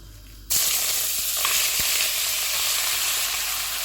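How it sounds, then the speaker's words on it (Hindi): Minced meat (keema) hits hot oil and breaks into a loud, steady sizzle that carries on evenly to the end. "ऑयल गर्म हो गया, इसमें कीमा डालेंगे।"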